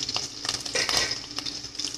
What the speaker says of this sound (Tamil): எல்லாத்தையும் சேர்த்துட்டு நல்லா வதக்கி விட்டுக்கலாம்.